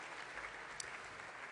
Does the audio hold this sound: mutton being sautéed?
no